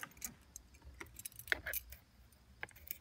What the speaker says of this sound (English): Then you gotta take the keys wherever the hell they are.